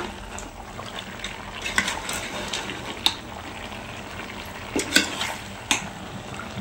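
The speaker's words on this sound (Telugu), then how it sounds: "ముక్కకు బాగా కారం పట్టాలంటే అలా కలుపుకోవాలి" Chicken leg pieces being mixed with chili powder in a pan, heard close: scattered clinks and scrapes of the spoon over a low frying hiss, with no speech.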